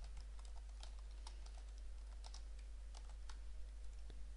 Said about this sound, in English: you can type some extra text here